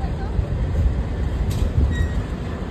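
A Mumbai local train rumbles along with a heavy, continuous low roar of wheels on track, heard from inside a carriage, steady and close, with faint squeals and people talking underneath.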